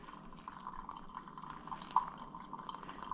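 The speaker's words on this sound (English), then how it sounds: "let's do some nice even pouring here" Hot water poured slowly and evenly over coffee grounds in a pour-over brewer, a soft continuous trickle with light dripping and splashing, steady and close, no talking.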